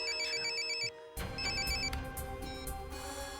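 A telephone rings with a bright electronic warbling ringtone, repeating in short bursts that break off for a moment and then continue under a busier background.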